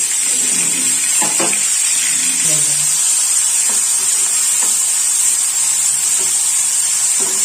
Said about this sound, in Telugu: టమాటాలను బాగా మెత్తపడేంత వరకు వేయించుకున్నాము